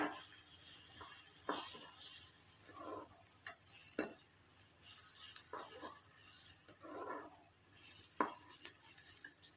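Onions fry to a light golden brown in a pan for a potato stir-fry, with a faint steady sizzle under scattered scraping stirs and occasional sharp ticks of a utensil against the pan.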